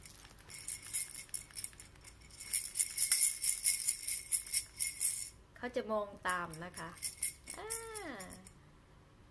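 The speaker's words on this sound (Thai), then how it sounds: "ของเล่นสำหรับลูกวันนี้อาจจะเป็นของเล่นที่มันมีเสียง" A sound-making baby toy for a six-month-old is shaken, giving bright rattling, jingling clinks for several seconds before someone speaks over the quieter tail.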